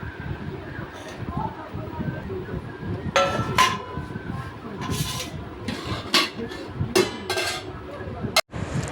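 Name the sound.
dishes clinking while serving rice onto plates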